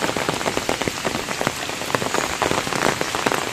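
Heavy rain pours steadily onto standing floodwater beside a road in a rice-growing area, making a dense, even hiss with close spattering drops and no voices.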